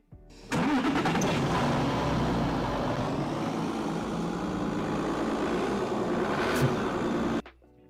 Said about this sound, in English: how loud these cars are.